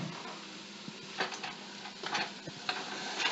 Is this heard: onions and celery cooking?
yes